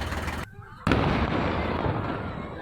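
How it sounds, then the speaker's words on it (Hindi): A loud blast at an illegal firecracker factory in Lucknow cuts in after a brief silence, followed by a dense rolling crackle of bursting firecrackers that stays loud throughout. "वीडियो में पटाखों की भी आवाज आ रही है"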